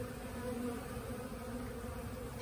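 Honeybees buzz steadily in a hive a week after a swarm was housed, a continuous close drone with no voices.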